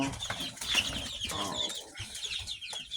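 Soft pigeon coos and fluttering wings close by, with scattered rustling and faint chirps in a small enclosure holding pigeons and young chicks.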